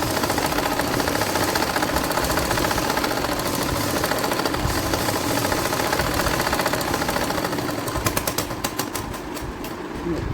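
A sewing machine stitching pintucks on suit fabric, a continuous close mechanical whirring with rapid rhythmic needle clatter for the whole stretch, with some speech mixed in.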